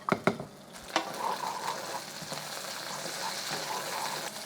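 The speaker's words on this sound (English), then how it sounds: "Okay, our pan is nice and hot. Drop in our asparagus." Asparagus sizzles and fries in a hot oiled pan, a steady close crackle after a few sharp clinks of the spears dropping in, with no talking.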